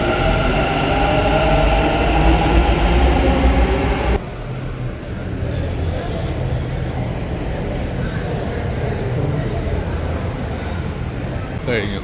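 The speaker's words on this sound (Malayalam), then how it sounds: "Train will arrive in Banashakari and doors will open on the left." A Bangalore metro train runs along the line, giving a steady loud rumble and rolling noise that shifts in tone partway through, with passengers talking over it.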